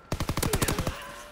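An StG-44 machine gun in Call of Duty WWII fires one quick burst of about eight close, sharp shots in rapid rhythm, then cuts off.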